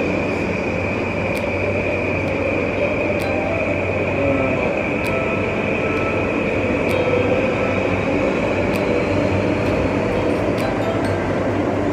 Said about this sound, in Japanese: 今これ山手線の外回り渋谷方面の電車です。